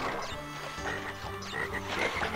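Frog croaks from the Crash Bandicoot: Warped video game, several repeated croaking calls in quick succession, clear and alone.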